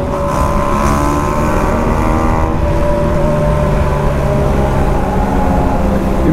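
A group of motorcycles accelerating together roar steadily, a loud continuous revving drone that holds without pause.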